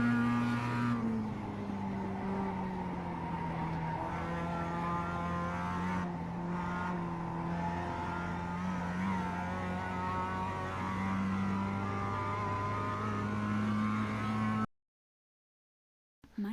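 A race car engine drones through a racing video game lap at Belle Isle, holding a steady tone that dips and rises with gear changes and braking, then cuts abruptly to silence near the end.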